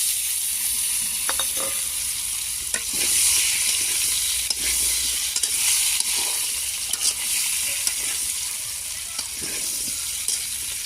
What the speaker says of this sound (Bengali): মূলত এখানে আলুগুলা ভেজে নিলাম